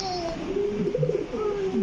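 An Indonesian fancy pigeon on a pigeon farm gives a brief, soft throaty coo at close range, with faint other bird sounds nearby.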